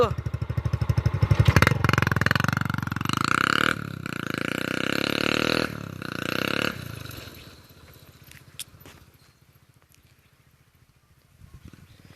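A motorcycle fitted with a steel pipe exhaust starts up and revs, running loud and rough up close for several seconds before pulling away and fading to a distant drone.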